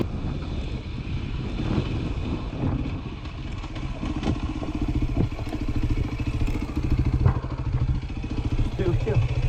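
A dirt bike motorcycle engine runs on a legal trail with a continuous buzzing drone and some clattering, rising and falling slightly as the rider moves, with no clear speech over it.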